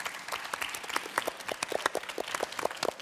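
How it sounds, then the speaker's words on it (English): An audience in Brussels applauds a panel at a LIFE programme and New European Bauhaus session, moderately loud, irregular clapping from a modest crowd continuing throughout. "May I have a warm round of applause for both my virtual and my physical panel."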